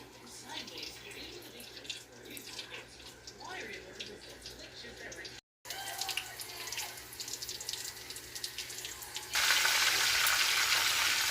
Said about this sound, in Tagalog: Iprito na natin to.